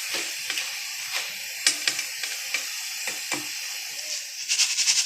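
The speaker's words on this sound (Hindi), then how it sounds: "जैसी आवाज़ आ रही है हमारी दाल बिल्कुल तैयार है।" Chana dal frying in hot oil as it is stirred, giving a crisp crackling sizzle with repeated scraping clicks from the stirring, moderately close with no talk.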